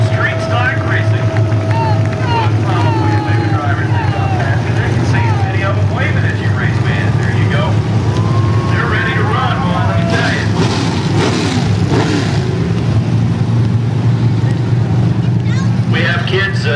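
Street stock race cars roar around Boothill Speedway, a loud continuous engine drone with passing revs and shifting pitch, while a track announcer talks over the racket throughout.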